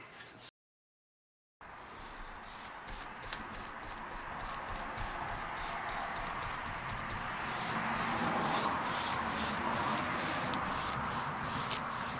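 A cloth rubs walnut stain onto a sanded wood surface of an old butcher's block, a soft scrubbing swish that grows steadier and slightly louder after a short silent gap.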